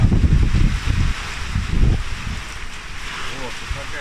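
Strong stormy wind gusts buffet the microphone outdoors at a honey apiary, heavy rumbling bursts in the first two seconds easing to a lighter steady roar afterward.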